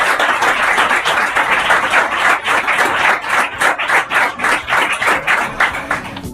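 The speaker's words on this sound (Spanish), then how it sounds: "un aplauso para Mariano" A small audience in a podcast studio applauds a guest, dense continuous clapping holding at a loud, even level throughout.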